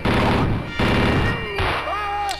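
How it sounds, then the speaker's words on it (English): A chain gun firing in Wolfenstein, a loud rapid burst of automatic gunfire that breaks off briefly twice and resumes, ending in a short high ringing tone. "Just stay on the chain gun, it's easier."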